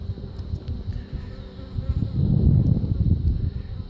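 Honey bees buzz around a hive frame being handled in a beehive, a dense, close droning hum that swells louder toward the end as the bees are disturbed.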